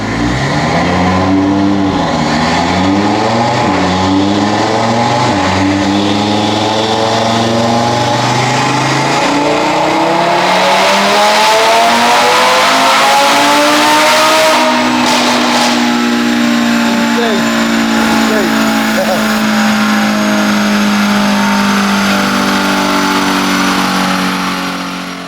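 Tuned Audi RS3 with a built engine on a dyno, wailing loudly as it climbs through the revs under high boost, then a sharp drop and a lower steady drone as the run winds down.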